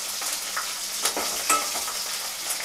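Green chillies crackling and sizzling in hot oil tempering for Andhra-style tomato dal, a close, steady frying hiss with a few sharper spits and stirring scrapes.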